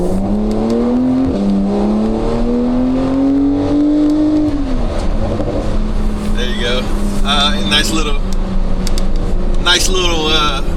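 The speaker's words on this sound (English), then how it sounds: "Nice little acceleration." A Techart-modified Porsche 911 Carrera T turbo accelerates hard with traction control off, engine note rising steadily through the revs, then shifting and climbing again, loud and close from inside the cabin, with a voice speaking briefly near the end.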